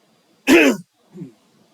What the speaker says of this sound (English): I'm sorry if I'm clearing my throat too loudly